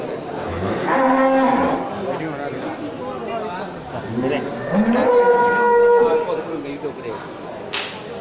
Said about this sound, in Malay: Ini sapi limosin ya, ukuran jumbo.